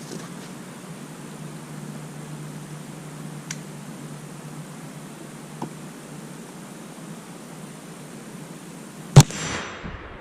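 Thompson Center Seneca 36 black powder rifle fired with CCI 11 caps and 60 grains of 3F powder, a single sharp crack near the end against faint background hiss, followed by a brief rattling tail.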